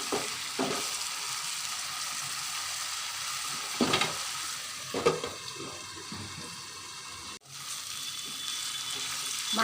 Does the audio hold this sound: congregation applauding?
no